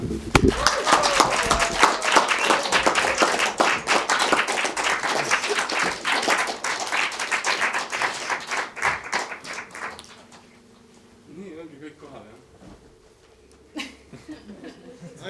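Audience at an Estonian improv comedy show applauding as the improvisers come on stage, loud dense clapping with scattered laughter and chuckles that fades out after about ten seconds, leaving quieter murmurs and a voice.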